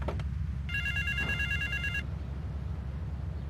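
A payphone in Grand Theft Auto 3 rings with a rapid, electronic trilling burst lasting about a second, over a steady low in-game background rumble.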